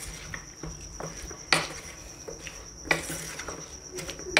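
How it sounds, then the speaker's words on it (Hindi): A masala spice coating is being mixed onto cut potatoes for homemade French fries. Scattered soft scrapes and clinks sound close by, with a few sharper knocks over a faint steady background hum and no voices. "ये देखिए इस तरीके से मिक्स करना है हमें।"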